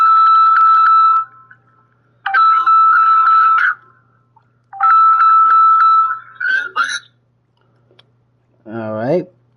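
A phone rings in the game Legendary Tales, sounding as loud repeated bursts of electronic ringtone separated by short pauses, close and dominant. A brief voice comes in near the end.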